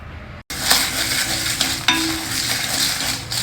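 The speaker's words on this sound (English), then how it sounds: "together till the dals are also well roasted" Dals dry roasting in a pan while being stirred, a steady close scraping and rustling with a light sizzle, broken by a couple of sharper scrapes of the spoon against the pan.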